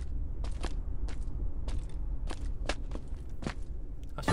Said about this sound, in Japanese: 足音聞こえたもんな